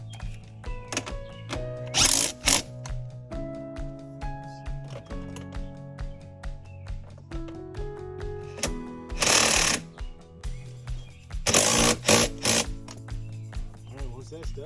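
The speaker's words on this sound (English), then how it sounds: "Torque the front down." A power tool tightens the seat bolts in a Dodge Charger or Challenger interior, with short whirring bursts separated by pauses and clunks, close up, while someone talks between them.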